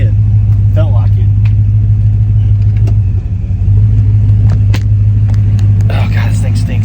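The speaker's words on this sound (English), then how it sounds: "let's pull forward and see if it spun both tires" A procharged Dodge Durango rolls forward after a burnout, its engine a loud, steady low rumble close by, with faint murmured voices over it.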